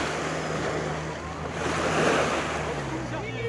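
Surf washing steadily onto a busy beach where people swim, a continuous broad roar with light wind noise, swelling a little toward the middle.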